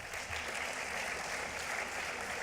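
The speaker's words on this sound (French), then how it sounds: "on pourrait les applaudir, ils ont été excellents" Applause from a congress audience for the facilitators at a regional oath-taking ceremony, a steady wash of clapping at even loudness throughout.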